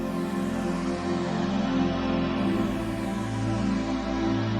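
A thick, resonant synth pad holds sustained chords, shifting to a new chord midway, loud and steady with no other sounds.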